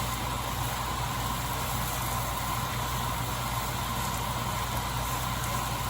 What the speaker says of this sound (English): Sorry about that vent fan.